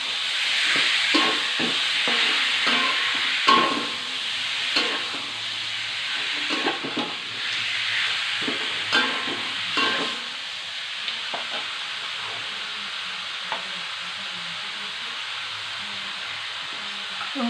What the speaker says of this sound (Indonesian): aduk ini dengan api besar ya